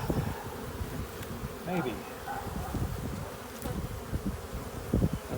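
Honey bees buzz in a low, continuous drone around an opened hive during an inspection before making splits, with big fat drones on the frame; a few quiet words are spoken nearby.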